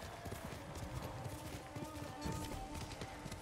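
Quiet, busy clopping of horse hooves in the video game Ghost of Tsushima under a steady ambient hum, rapid and irregular, fairly faint and continuous.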